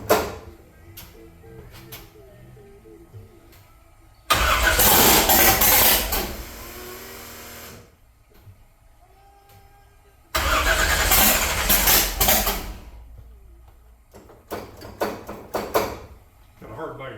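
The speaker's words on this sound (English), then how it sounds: "then restart it whenever I'm cranking it, and we'll run it through a heat cycle" A 1968 Nova with a 509 big-block engine, running 110 octane, cranks and catches in two loud sustained bursts of engine roar, separated by quieter gaps of ticking and clatter.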